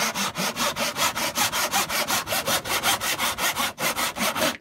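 A hand saw cuts through a thin section of wood, about 8 mm, with fast, even back-and-forth rasping strokes, close and loud, and a brief pause near the end.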